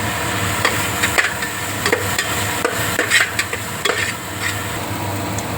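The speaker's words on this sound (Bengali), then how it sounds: "আমি পেঁয়াজটা পুরো দিয়ে দিয়েছি, দিয়ে একটু নাড়াচাড়া করে দেবো" Chopped onion stirred into hot oil in a pressure cooker: a steady sizzle with scraping, clinking stirring strokes against the metal pot, close and continuous with no talk.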